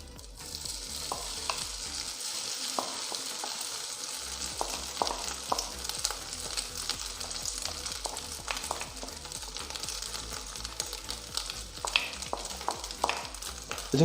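Rice stir-fried in a pan for Korean egg fried rice makes a continuous sizzle with a fast, busy rhythm of scraping and tossing against the pan, close and steady.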